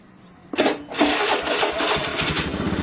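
A Honda Beat FI motorcycle with a starter that clicks but will not crank is jump-started with a jumper wire: a sharp crank burst, a brief pause, then the engine catches and runs at a steady, close idle.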